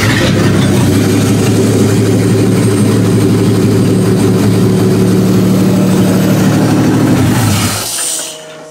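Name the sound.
Chevrolet Lumina car engine starting and running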